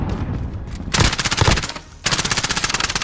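Rapid automatic gunfire fills a Call of Duty: Modern Warfare (2019) multiplayer match on the Gun Runner map. Loud, dense bursts of shots come in two long strings separated by a brief lull, with no speech.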